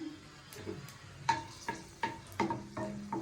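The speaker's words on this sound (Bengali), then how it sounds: "লঙ্কাটা একটু ভাজা ভাজা করবো।" Green chillies frying in hot oil in a kadai, a crackling sizzle with sharp pops and spatters bursting every half second or so, close and clear with no talk.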